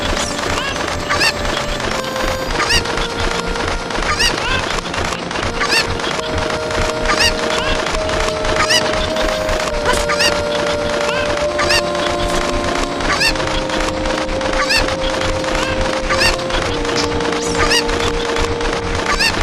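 Chickens cluck and squawk steadily in a Legend of Zelda game, a dense busy flutter of clucks over a game music melody that plays throughout.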